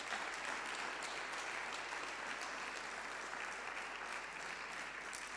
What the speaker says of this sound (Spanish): Entonces aplauda al Señor porque viene un tiempo precioso.